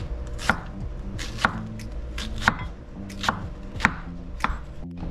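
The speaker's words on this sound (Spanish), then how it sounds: "Cebolla morada la vamos a partir a la mitad y la vamos a partir en lunas para ponerla a curtir." A knife slices a red onion into half-moon strips on a cutting board, giving about seven evenly spaced, crisp chops close by with no talking.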